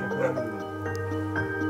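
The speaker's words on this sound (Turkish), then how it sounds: "köpek geliyor galiba" A dog whimpers and yips in a series of high tonal whines over a steady low hum, fairly close and clear, inside a mysterious old miner's house with no speech.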